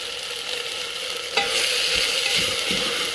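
Vegetables being sautéed for khichdi hiss steadily in a hot pan, with a spoon scraping and stirring through them; a sharp clack near the middle, then a louder, fuller sizzle, close-up with no talking.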